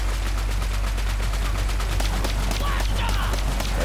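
Gunfire from a weapon in Borderlands 3, a dense run of rapid shots spread through the whole clip, loud and continuous, with a steady low rumble underneath and speech mixed in.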